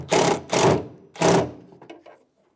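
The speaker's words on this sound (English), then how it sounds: "use a Phillips head bit and screw in the back cap" Three short bursts of a power driver with a Phillips bit whirring as it screws in the exterior door handle back cap on a 2000-2007 Ford Focus, each about a third of a second, followed by faint clicks and handling noises before falling quiet.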